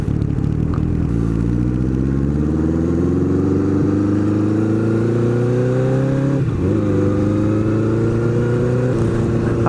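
A Honda Nighthawk motorcycle engine revs loudly while downshifting, its drone climbing steadily in pitch, then dropping and climbing again after a sharp blip, close and alone without speech.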